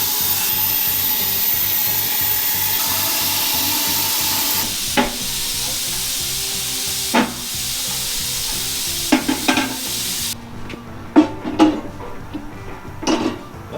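Cutting a circle out of dump truck metal, a rough continuous hissing, sizzling grind at close range, which stops partway through and gives way to scattered clanks and knocks.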